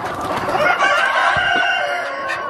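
Chickens cluck and a rooster crows in the lower house of a large egg-laying poultry farm, a dense, continuous flock chorus close by with overlapping calls throughout.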